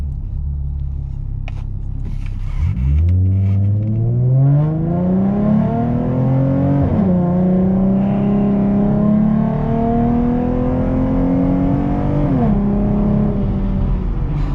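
A 2014 Ford Mustang Premium with a Roush exhaust revs up hard and roars through climbing gear shifts on a 0 to 60 run, its exhaust note rising in pitch, dropping, then rising again, loud and close throughout.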